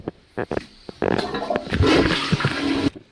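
A toilet flushes with a rushing, roaring surge of water lasting a couple of seconds, preceded by a few brief clicks and knocks, close and fairly loud.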